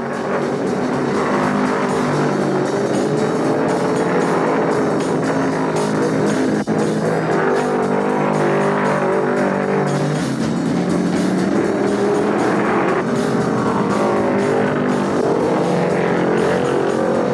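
Ford and Mopar stock cars race side by side at Martinsville in 1971, a loud continuous roar of engines that swells and fades as they sweep past, with no voices.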